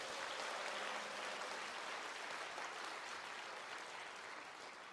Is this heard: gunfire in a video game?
no